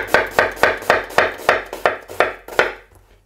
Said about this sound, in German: Wir fangen als allererstes mal an und schnibbeln unsere Zwiebeln.